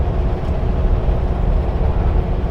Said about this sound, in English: Yeah, there's a train right there